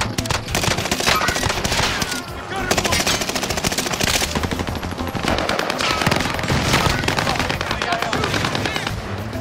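Loud, rapid automatic gunfire from a Scar rifle and other weapons in a video game firefight, with continuous overlapping bursts and shots coming from several directions with almost no pause.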